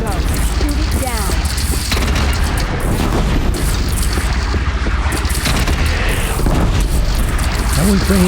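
A bridge is blown apart in Horizon Zero Dawn, with loud continuous booming and crumbling rumble and bursts of debris, while voices speak over the destruction.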